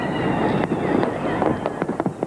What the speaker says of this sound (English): Fireworks also marked the new millennium in Moscow's Red Square.